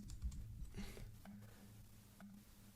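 Quiet, close typing on a computer keyboard, a soft run of key taps over a low background hum with no talk.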